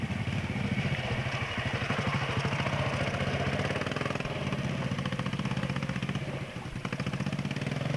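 A trials motorcycle ridden by Dave Thornber works up rough ground at Keighley Gate, its engine a close, steady pulsing burble that holds loud throughout, with a brief dip near the end.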